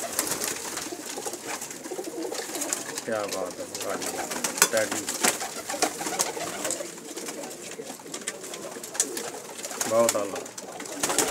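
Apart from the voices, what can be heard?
pigeons cooing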